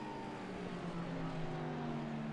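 A Ferrari race car in a sim racing game accelerates down a long straight, its engine a steady, rising drone heard fairly faint and continuous throughout.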